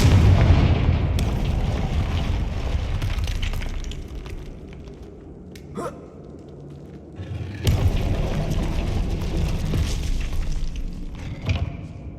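Confringo spell explosions in the video game Hogwarts Legacy: heavy booming blasts, one at the start and another around the middle, each trailing into rumbling debris, with a sharp crack between them.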